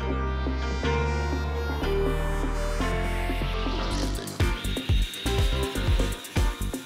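A cordless Hilti Nuron band saw cuts through scrap metal with a loud, sustained whining drone that shifts pitch as the blade works, then gives way to a choppy, stuttering grind near the end of the cut.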